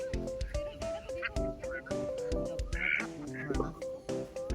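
Several ducks quack close by at Umm al Quwain Zoo in the UAE, a lively, overlapping chorus of short raspy calls, with faint rustling and background noise between them.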